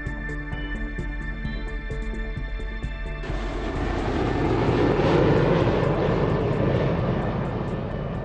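An airplane roars steadily, loud and droning. A broadband engine rush swells midway and then holds as a sustained, close wash of noise with no voices.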